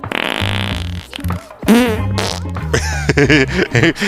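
A fart sound in a Genshin Impact scene set in Natlan, several buzzy blasts of varying length mixed with game music and character voices.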